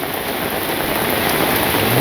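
Rain falls outdoors in a rural village, a brief, steady wash of broadband patter with no talk.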